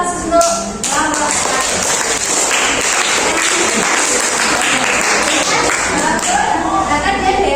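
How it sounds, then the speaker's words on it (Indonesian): Audience applause in a classroom or training session at a junior high school, loud sustained clapping filling the room after a brief pause, continuing steadily to the end. "Beri aplaus untuk Bapak"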